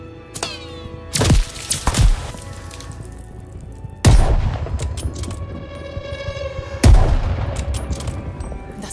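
Enemy gunfire from Call of Duty Vanguard at Stalingrad in 1943, heard as three heavy, booming shots that land a few seconds apart, each with a sharp attack and a long ringing tail, and no voices over them.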